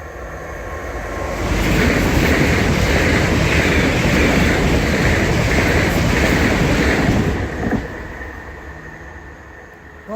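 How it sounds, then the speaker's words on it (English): A Class 365 train rushes past nearby, a loud broad roar with rhythmic rattling that swells over a few seconds, holds steady, then fades away. "the next train today is going to be a 365"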